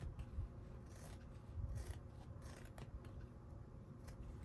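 Scissors cut through fabric for sewing placemats, giving soft, faint snips and scraping rubs in an uneven rhythm. The snips are close but quiet, and no one speaks.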